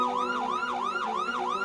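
A police siren in the Roblox game Brookhaven wails in a quick, regular up-and-down cycle, loud and close, with no voices over it.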